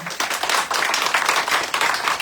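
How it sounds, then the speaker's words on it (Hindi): An audience claps loudly and steadily for Acharya Krunal Kapadia at a religious gathering, dense, close applause with no talk over it. "तो इस आनंद के लिए जोरदार ताली आचार्य जी के हो जाए।"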